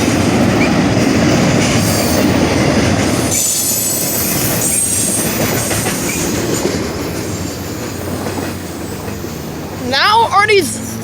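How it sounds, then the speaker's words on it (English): A train at an Ohio crossing passes close by, its wheels squealing loudly over continuous rumbling and clatter that eases slightly as it goes, with voices briefly audible near the end. "It's not only this train, but there is a train stop."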